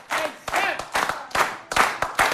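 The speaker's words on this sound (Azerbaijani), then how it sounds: "Bir daha ürəkdən alqışlayaq." An audience on a music TV show breaks into rhythmic applause, loud and near, with about eight distinct bursts of clapping in steady succession.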